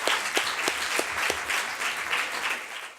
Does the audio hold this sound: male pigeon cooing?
no